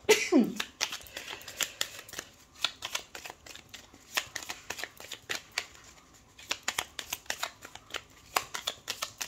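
Tarot cards shuffled for a 13-card weekly reading: a steady run of soft, quick riffling flutters and taps, close and fairly quiet, with a brief higher sound at the start and no clear talking.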